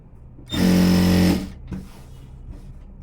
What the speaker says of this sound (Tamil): கரெக்டாக இப்படி லெவல் பண்ணிவிட்டு வச்சு தைங்க